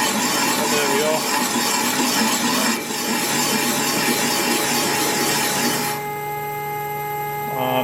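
A saw cuts through aluminium alloy lubricated with WD-40, giving a steady rasping, rubbing grind with a constant machine hum that continues close and loud before easing slightly toward the end.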